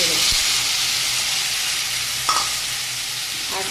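Vegetable curry with arum root in a pan hisses in a loud, broad sizzle as a salt, turmeric and water mixture goes in, with a brief clink of utensil partway through.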